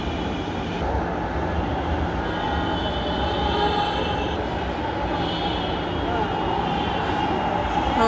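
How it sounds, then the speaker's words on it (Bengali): A metro rail train arrives at a station in Dhaka, a steady loud rumble of wheels and motor with faint squeal, continuous throughout with no talk. "এই যে মেট্রো রেল চলে আসলো"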